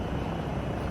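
Eurocopter helicopter in Microsoft Flight Simulator 2024: a loud, steady rotor and turbine drone with a low throbbing beat, constant and close, with no voices.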